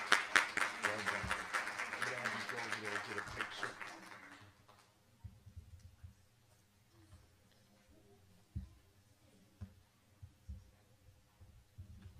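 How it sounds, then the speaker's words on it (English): Audience applause fills a school board meeting room for the first few seconds, a dense wash of clapping that fades out, leaving quiet room tone with a few scattered knocks and soft sounds. "And one more round of applause, please."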